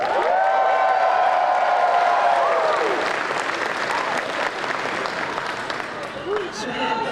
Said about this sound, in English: All right, everybody, cheer loudly.